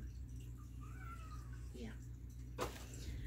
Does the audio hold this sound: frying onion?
no